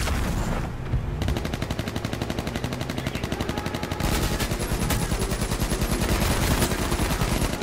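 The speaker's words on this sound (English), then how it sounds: "We're getting shot from the south." Sustained automatic gunfire in the survival shooter H1Z1, a dense rapid stream of shots that grows louder and harsher partway through, loud and continuous with no talk over it.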